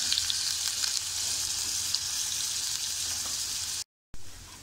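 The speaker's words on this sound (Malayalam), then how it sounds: "ഇതിലേക്ക് ജിഞ്ചർ പേസ്റ്റ്, ഗാർലിക് ചോപ്പ് ചെയ്തിട്ട് വാറ്റിക്കൊടുക്കാം." Ginger paste and chopped garlic sauté in oil in a pan for chilly chicken, giving a close, steady, loud sizzle that runs unbroken and cuts off abruptly for a moment near the end.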